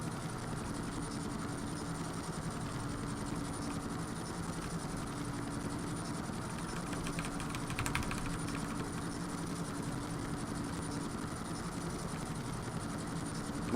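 A helicopter flies in the video game GTA Vice City, its steady rotor and engine drone continuous and even throughout with no talk.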